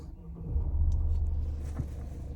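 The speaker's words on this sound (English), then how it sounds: "What we'll do is we'll fire the car up" A 2017 Mercedes C250 d diesel engine cranks and catches, settling into a low, soft rumble that continues faintly after the start.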